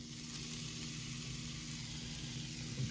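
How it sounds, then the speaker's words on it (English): Rice with garlic and onion sizzles steadily in butter and oil in a pan, a constant close hiss with no talk over it. "I heat up the rice in the pan before doing anything else, before putting anything into it."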